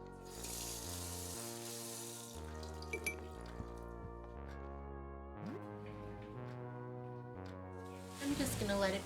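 Video-game running water for brushing and a shower hisses steadily at the start and again near the end, beneath a soft, stepping melody of tonal music.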